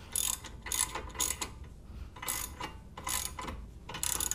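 A ratchet wrench with a 19 mm socket clicks in repeated bursts while tightening the nut on a clutch tool during a 2002-06 MINI Cooper clutch job, quiet and close, with short pauses between strokes and no talking.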